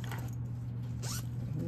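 A zipper on a cosmetic bag is pulled in one short, quick rasp near the end of a brief, otherwise quiet moment with a low background hum.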